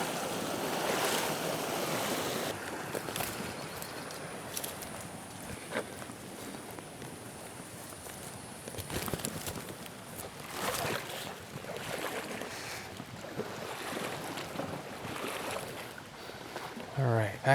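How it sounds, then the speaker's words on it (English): River water rushes steadily throughout at a tenkara fly fishing spot, a continuous soft wash with occasional splashes and handling noises in the foreground. "All right, back in the river."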